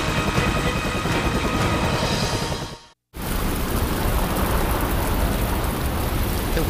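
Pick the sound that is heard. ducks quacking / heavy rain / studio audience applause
heavy rain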